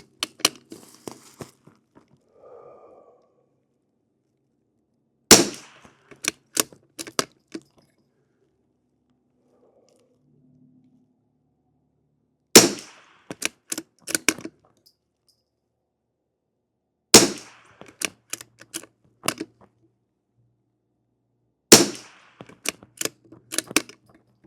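CCI standard velocity rimfire rounds, lubed with beef tallow and beeswax, fire in four loud, sharp shots spaced several seconds apart, each trailed by a short run of lighter clicks and clatter, with near silence between.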